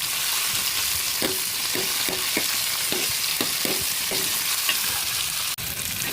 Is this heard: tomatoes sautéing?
yes